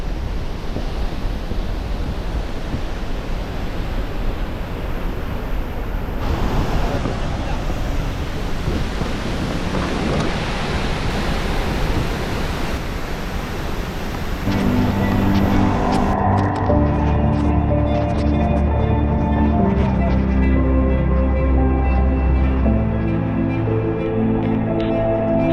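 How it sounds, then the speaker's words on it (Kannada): Mallalli waterfall in Coorg, a steady, loud, broadband roar of falling water that continues throughout, with music joining over the roar in the second half. "ಕೂರ್ಗಲ್ಲಿರೋ ಮಲ್ಲಾಲಿ ವಾಟರ್ ಫಾಲ್ಸ್ ನೋಡಿ ಯಾವ ರೀತಿ ಇದೆ ಅಂದರೆ"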